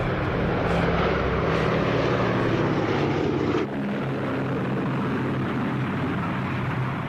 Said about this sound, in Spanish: Tibbets despegaba su B-29 llamado Enola Gay